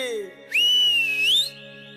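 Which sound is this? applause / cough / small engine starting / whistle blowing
whistle blowing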